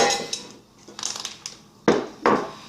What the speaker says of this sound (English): mix up my flours